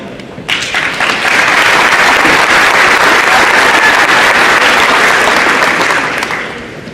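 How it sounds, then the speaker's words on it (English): A crowd applauds coaches at a high school athletic signing event: a burst of loud, dense clapping that swells quickly, holds steady for several seconds, then fades out. "Please applaud them."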